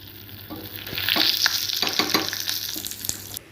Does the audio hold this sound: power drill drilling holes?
no